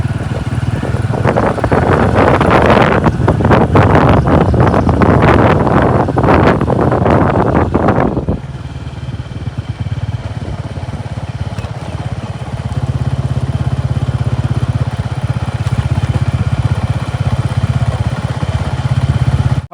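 A motorcycle rides along with heavy wind buffeting the microphone for the first eight seconds, then the engine settles into a steadier, quieter running hum.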